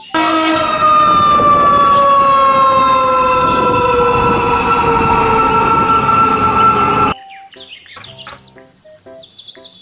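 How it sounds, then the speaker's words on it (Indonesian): A loud toy fire truck siren wails with a steady electronic tone for several seconds, then cuts off into quieter, chirpy electronic beeps and tones. "mobil truk pemadam kebakaran."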